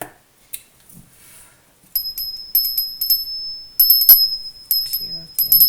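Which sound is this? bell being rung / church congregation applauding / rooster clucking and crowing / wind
bell being rung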